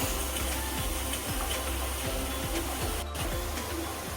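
Onions and chillies fry in hot oil, giving a steady, dense sizzle with a faint repeating tick beneath it, close by and with no talk.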